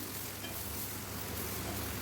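Spinach and onions sauté in a pan for a palak poriyal, giving a steady, close hiss of sizzling throughout with no speech.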